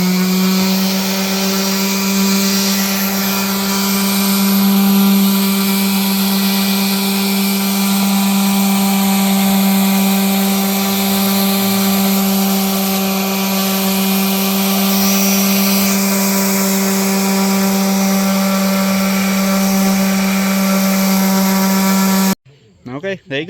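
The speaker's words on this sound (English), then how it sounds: "So I'm getting ready to start sanding" A loud, steady power-sander drone, sanding a shelf, runs continuously at close range for over twenty seconds, then cuts off abruptly near the end.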